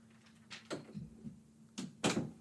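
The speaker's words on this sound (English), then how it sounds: "Close the door and get out." A door shuts in a room with a few soft thuds and a final louder clunk, fairly close, with no talking over it.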